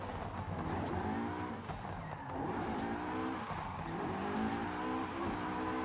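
A Ferrari F355 biturbo drifts in Forza Horizon 5, its engine droning steadily under long, wavering tire squeal that holds close and loud throughout.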